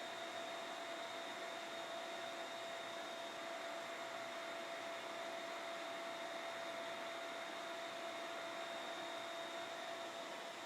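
Steady, even roar of a dust collector pulling air through shop ducting, a continuous broadband whoosh with a faint constant whine, unchanging throughout and with no voices.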